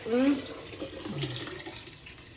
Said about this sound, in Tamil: 2 டம்ளர் தண்ணி ஊற்றிட்டோம்